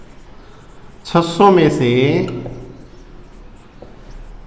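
Someone writes on a board during a biology lesson, producing faint taps and scratches after a short stretch of someone speaking close by.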